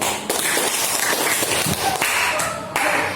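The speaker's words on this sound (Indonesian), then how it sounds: "Tepuk tangan buat Nadia." Classmates clap for a student named Nadia during a classroom lesson, a burst of sharp, close handclaps sustained for a few seconds with uneven pulses.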